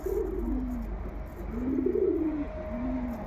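Pigeons in a breeder's loft coo repeatedly in low, rolling phrases, three or four swelling calls close by over a steady background hum.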